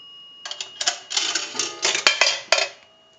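A Northern Electric three-slot payphone takes a quarter, producing a single metallic gong strike among clattering coin and mechanism noises, up close with no talking.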